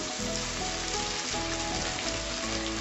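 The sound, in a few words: ginger paste sizzling as it is added to frying garlic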